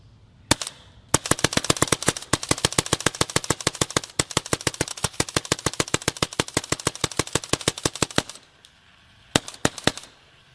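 A WGP Outkast paintball marker firing a long rapid stream of sharp, evenly spaced pops, roughly forty shots in quick succession, then a brief pause and a few more shots at the end, with no talking.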